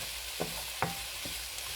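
Chow mein with added vegetables sizzles steadily in a hot pan, a constant frying hiss broken by a few brief scraping stir strokes at intervals.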